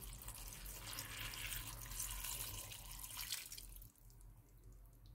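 Water pours in a steady, splashy stream into a bowl of homemade summer gazpacho for about four seconds, then stops, leaving faint kitchen noise and a few small drips.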